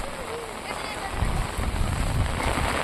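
Rain falling outdoors in a muddy area, a steady hiss that grows louder after the first second, with faint voices in the background.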